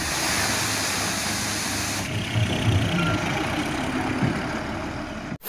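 A sand truck's engine idles and rumbles nearby in a low, steady drone with slight surges, ending in a sudden cutoff.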